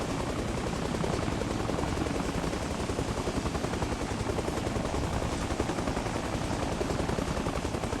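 A helicopter door gun fires in Arma Reforger, a dense rattle of rapid bursts over the constant loud thrum of rotors, all close and steady with no voices.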